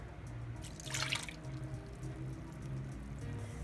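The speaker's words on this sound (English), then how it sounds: "Throw in the milk." Milk poured into a broccoli casserole mixture with cream of celery soup, a short liquid splash that swells for about half a second, then gives way to a quiet steady background.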